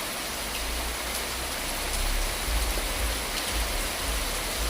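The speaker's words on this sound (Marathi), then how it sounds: "मोठ्या प्रमाणावरती पावसाची बॅटिंग सुरू आहे" Heavy rain pours down in Phaltan in a dense, continuous hiss, loud and close, with a low rumble underneath and no voices.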